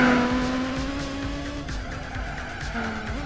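Car sliding in Gran Turismo 4, tires squealing in a loud, sustained pitched screech over a rumbling engine, the squeal wavering and fading then rising again near the end.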